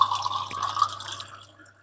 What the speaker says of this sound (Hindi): अभी पानी ले आओ गिलास में